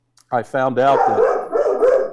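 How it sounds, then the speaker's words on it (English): Several dogs at a country home bark and yip loudly and close by, overlapping with a voice talking over them. "pardon my dogs, I live in the country"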